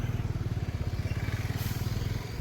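A motorcycle engine thrums in quick, regular pulses, close and steady, as it is ridden at night through a busy market street in Sivakasi, Tamil Nadu.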